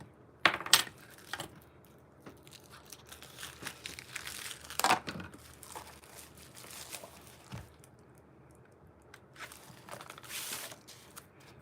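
Sheets of Nature's Walk patterned craft paper are handled and shuffled, giving scattered crinkles, flaps and sharp rustling bursts at close range, with quiet gaps between them.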